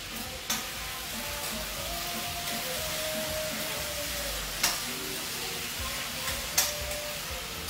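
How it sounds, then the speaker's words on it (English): Tomato paste frying in a pot while being stirred, a steady close sizzle running throughout with a few sharp clinks of the spoon against the pot. "I also like to fry up my tomato paste"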